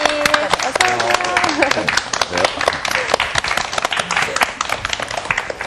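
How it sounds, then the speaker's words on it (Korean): An audience at a church Bible-character lecture program claps to welcome a pastor and seminary professor as guest speaker. The applause builds into dense, steady clapping, and voices and some tonal sound are heard early on. "박수로 환영해 주세요"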